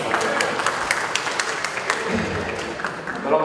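An audience at a public talk in Bandung claps steadily throughout, with voices mixed in over the applause.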